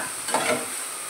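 Grated carrot and fresh chhana being stir-fried in a pan, a soft close sizzle with a brief scraping stir partway through, alone and fairly quiet.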